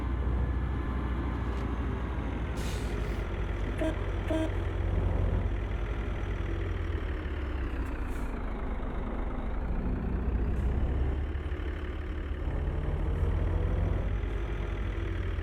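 A city bus idles in Euro Truck Simulator 2, set in Istanbul traffic, giving a steady low rumbling drone with gentle rises and falls in revs, continuous and fairly close.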